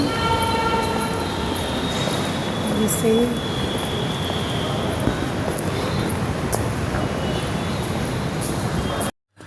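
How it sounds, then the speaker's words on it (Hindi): A metro train rumbles loudly into Jhandewalan metro station in Delhi with steady rail noise and brief squeals and a horn-like tone, one word spoken near the end. "जैसे ही हम बस पहुँचे ही थे और मेट्रो आ गई थी"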